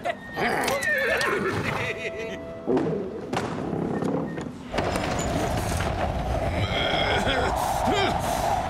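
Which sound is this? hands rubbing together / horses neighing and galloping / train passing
horses neighing and galloping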